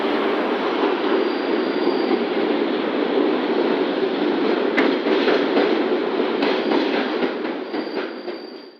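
London Underground tube train roaring loudly and steadily along the track, with faint clicks and a brief squeal before the noise begins to fade at the end.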